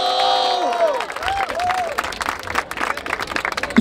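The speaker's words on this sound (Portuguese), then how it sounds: "primeiramente, palmas pro DJ Dunda, mano!" Crowd claps and cheers at a Brazilian rap battle in Barueri, São Paulo, a dense, close burst of applause and shouting that rises and swells for a few seconds, with a whistle-like tone at the start.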